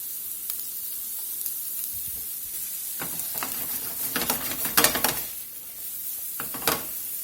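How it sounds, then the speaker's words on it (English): Diced onion hits hot butter in a skillet and sets off a steady hiss, with a few clattering stirs and scrapes of a utensil in the pan midway and near the end, and no voices. "I got about a tablespoon of butter in the skillet. I'm going to get this big old diced onion in here."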